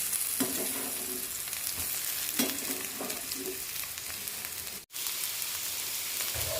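Cooked carrots roast in a pan, sizzling and crackling steadily up close, with occasional stirring scrapes and a brief dropout.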